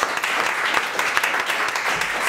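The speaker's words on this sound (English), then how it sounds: "Let's give a big round of applause for Lance." Dense, steady applause from a podcast audience, a continuous wash of many hands clapping at even loudness throughout, with no voices over it.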